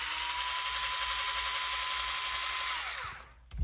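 A power tool removes 2mm screws from the skid plates of an Associated Rival MT10 RC truck, a steady close whine running for about three seconds before winding down and stopping.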